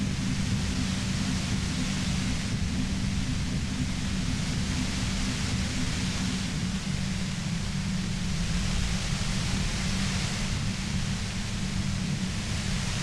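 Steady white noise in the video game Disco Elysium, a constant broadband hiss with a heavier low rumble, unchanging throughout and with no voices.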